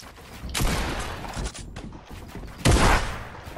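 Video game gunfire rings out in two loud, dense bursts of rapid shots, the second sharper and closer, with a lingering crackling tail between them.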